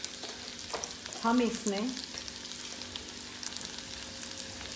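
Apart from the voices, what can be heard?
stirring vegetables frying in a pan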